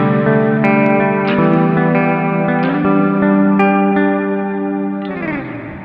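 An electric guitar plays through a BOSS RV-6 reverb pedal in modulated mode, its wide, chorus-like shimmer spreading over a handful of ringing chords that overlap and fade away at the close.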